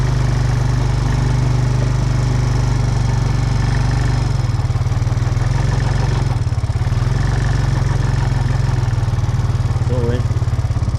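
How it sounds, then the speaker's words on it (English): Tractor engine running steadily up close while cutting a rough trail through a clear-cut in the woods, a loud continuous low drone with slight changes in load throughout. "I did bring the tractor up here and"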